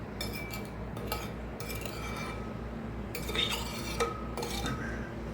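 A utensil stirring around a mixing bowl in a kitchen, several short bursts of scraping and clinking strokes separated by brief pauses.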